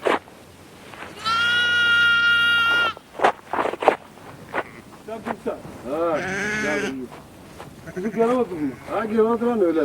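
Young lambs bleat loudly up close, one long sustained cry followed by several shorter wavering calls, with a voice talking between them.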